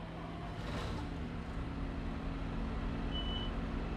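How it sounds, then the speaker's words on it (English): A road grader's diesel engine in Farming Simulator 22, running at a steady, fairly loud idle with a continuous low rumble and humming drone for the whole stretch. "get in that road grader. First time firing this thing up."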